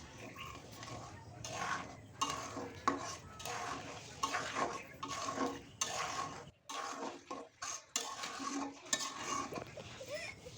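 Rice pudding (payesh) of Gobindabhog rice with ghee stirred in a pot, rhythmic scraping and clinking of a spoon against metal in repeated bursts with brief pauses, close-up and without speech.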